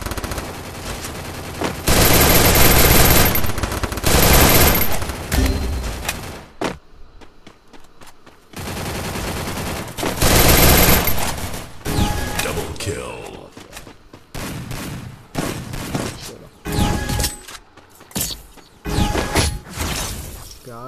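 Repeated bursts of rapid automatic gunfire in the mobile game Free Fire, loud clustered volleys separated by brief quiet gaps, with a player talking between and over the shots.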